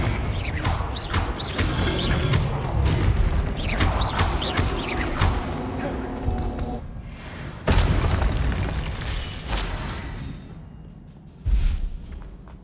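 Confringo blasting spell explosions in the Hogwarts Legacy video game: a dense stretch of booming blasts and crashing debris, followed by a loud renewed burst and a final short boom, with no speech.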